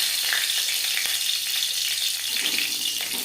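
Cumin seeds and slit green chilies fry in hot oil, a loud, dense, continuous hiss and crackle that swells slightly near the end, close up with no one speaking.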